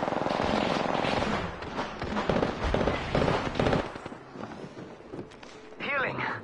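Rapid bursts of gunfire crackle through a video game battle, dense and loud at first, then thinning into scattered shots with brief effects, while a player talks over the action.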